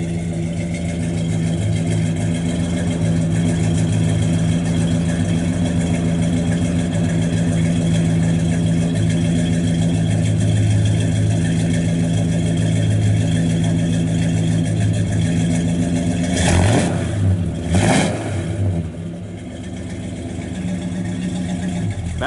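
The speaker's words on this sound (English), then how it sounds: "Sounds good off the exhaust." A black 1966 Chevrolet Impala SS 396 V8 idles steadily and close through its exhaust, a deep continuous rumble that swells briefly near the end with a couple of quick revs before settling back to idle.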